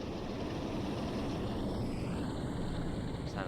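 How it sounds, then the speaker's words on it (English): A Class 47 diesel locomotive in Train Sim World 5 runs at speed on the Blackpool branches, its engine giving a steady, loud, rumbling roar with no pauses. "Sound of that engine probably roaring as we go along."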